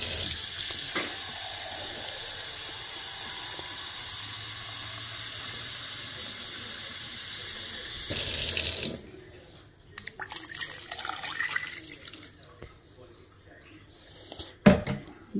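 Water pours steadily from a tap into a cooking pot of milkfish for several seconds, then stops, followed by quieter clinks and handling noises with a sharp knock near the end.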